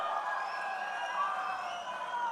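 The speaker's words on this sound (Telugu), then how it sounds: "గట్టిగా చప్పట్లు కొట్టి అందరినీ అభినందించాలి ఆశీర్వదించాలి" Crowd clapping and cheering at a political party meeting where donations were announced, a sustained wash of applause and voices heard fairly faint and distant, with whistle-like tones running through it.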